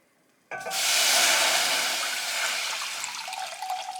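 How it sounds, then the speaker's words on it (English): Four cups of water pour into a hot pan of tomato paste with a loud, sudden sizzle that erupts after a brief pause and hisses steadily, slowly easing off. "Now I'm going to add the water."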